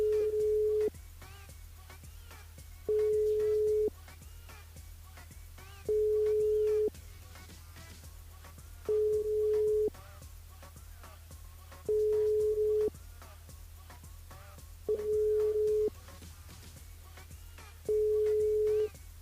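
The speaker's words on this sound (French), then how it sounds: "Bon, ben malheureusement, Candy, ça répond pas" A telephone call to a radio listener rings unanswered during a live broadcast, with seven steady, evenly spaced ringback tones of about a second each repeating over a low hum.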